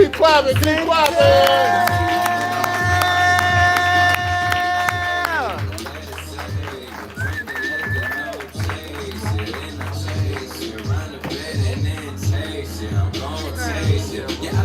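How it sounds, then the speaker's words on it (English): An audience at a live spoken-word poetry show keeps clapping, a crowd wash under sustained musical tones and a steady beat, continuing throughout. "Y'all keep clapping"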